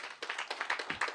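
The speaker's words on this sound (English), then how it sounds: "let's give another round of applause" Audience applause at a season launch event, a short burst of many quick overlapping claps at moderate distance.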